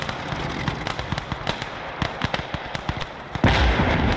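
Rapid bursts of field gun and small-arms fire in the WWII game Gates of Hell: Ostfront, a dense string of sharp booms and cracks at mid distance, ending in a louder, sustained blast near the close.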